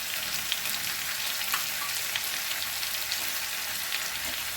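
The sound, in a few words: ginger garlic paste frying in a pan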